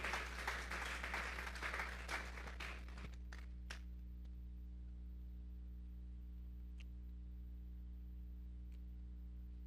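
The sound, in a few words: congregation applause in church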